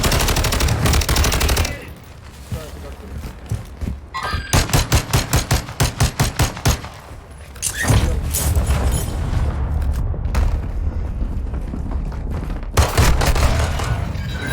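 Dense video game gunfire, with rapid automatic bursts, rhythmic machine-gun volleys and booming impacts layered loudly throughout a combat firefight, with barely a pause in the noise.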